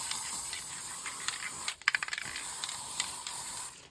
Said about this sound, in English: I'll just give it a quick spray over